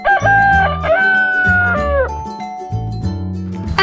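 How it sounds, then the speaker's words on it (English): Roosters crow in long, drawn-out calls over a steady harmonic backing, loud and close, with no talking. "and two roosters."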